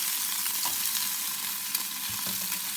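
A masala egg sizzles steadily in a hot pan while it is flipped. The frying hiss stays loud and continuous throughout, broken by faint soft bumps from the turn, with no talk.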